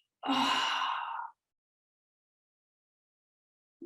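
A single drawn-out yawn with a sighing release during a big stretch in a gentle all-abilities yoga session, about a second long and close, followed by silence.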